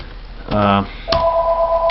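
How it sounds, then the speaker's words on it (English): An indoor telephone rings with two short electronic tone bursts, fairly loud and close, over a quiet room. "Sorry about that phone."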